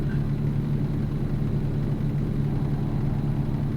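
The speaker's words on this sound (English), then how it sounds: "the sounds of the truck engine are helping him sleep" A truck engine idles in the American Truck Simulator video game. It gives a steady, continuous low rumble at moderate loudness, with no talk over it.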